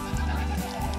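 Goats bleat on a farm during a horseback riding outing in Big Bear, a steady close bleating call lasting about a second with no talk over it.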